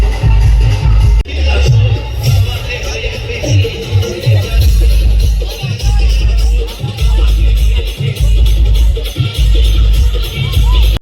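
A dense, loud crowd fills a village Holi festival in Vasheni, Uran, with continuous babble and shouting over heavy pulsing DJ bass that drops out briefly at moments.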